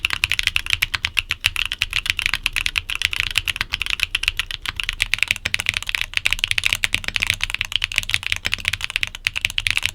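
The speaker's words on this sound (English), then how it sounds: "The baby Kangaroos have a brighter sound signature due to its polycarbonate top housing, whereas the Quinns have a deeper sound signature due to its nylon housings." Fast, steady typing on a mechanical keyboard fitted with tactile switches, including polycarbonate-top and nylon-housed types, producing dense, crisp clacks that continue without pause at close range, with no voices.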